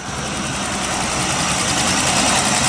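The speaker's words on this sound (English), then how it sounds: "So there's the car at idle." A 1946 Plymouth Special Deluxe engine idling steadily up close, a loud continuous rumble with a faint rhythmic pulse and no other sounds.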